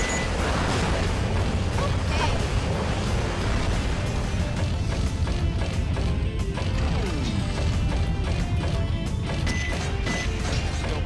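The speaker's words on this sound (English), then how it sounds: "the thousands of explosions happening all the time." Constant explosions and crashing impacts in Sonic Adventure 2 form a dense, loud wall of booms and smashes that persists throughout, burying the game music beneath it.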